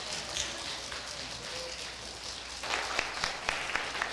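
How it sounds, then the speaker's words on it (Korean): Church congregation applauding at a Sunday service, a broad steady patter of many hands with sharper claps standing out in the second half. "큰 박수 부탁드리겠습니다."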